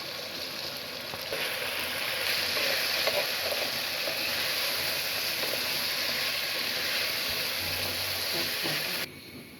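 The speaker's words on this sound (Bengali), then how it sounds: "এখন দিয়ে দিচ্ছি আগে থেকে কেটে রাখা বাঁধাকপি" Sliced cabbage hits a hot pan for chicken noodles, giving a loud, steady sizzle and hiss of frying that runs continuously before dropping off abruptly at the end.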